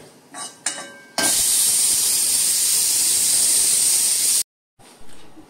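A pressure cooker holding soaked chickpeas and potatoes lets out a loud, steady blast of steam hiss for about three seconds before it cuts off abruptly, with a few brief metallic clinks just before.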